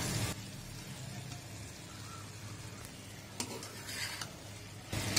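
Fried okra is stirred into boiled potatoes in a pan, giving soft, quiet scraping and stirring sounds over a faint sizzle, with a few louder scrapes and knocks near the end.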